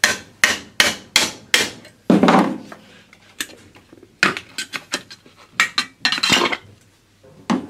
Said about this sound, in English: you basically stick a thin-bladed screwdriver in there and whack it with a hammer